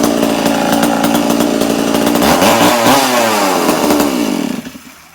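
A repaired chainsaw engine runs loud and steady at high revs, its pitch swooping and wavering as the throttle shifts, then cuts out abruptly near the end; no talk.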